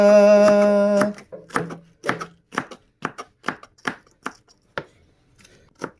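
Onion chopped with a knife on a cutting board while preparing pancit, about a dozen crisp, evenly spaced cuts ringing out up close after a brief sung note at the start.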